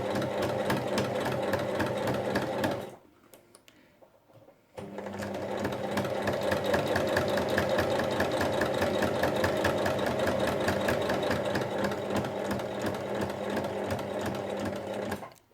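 A sewing machine runs close and loud as it stitches 1 mm from the bottom edge of a lined pocket on a fabric Christmas pouch. The steady mechanical whir pauses briefly, then resumes for a long run.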